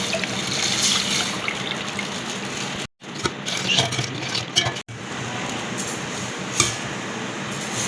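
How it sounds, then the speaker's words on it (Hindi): Half a kilo of milk pours steadily into tea cooking in a pot, a continuous close liquid rush that breaks off briefly twice before resuming. "अभी आधा किलो दूध शामिल कर देते"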